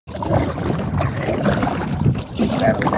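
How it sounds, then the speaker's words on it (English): Steady wind rushes and buffets the microphone outdoors, a loud continuous roar with some faint murmur of voice beneath it. "It's getting windy over here now."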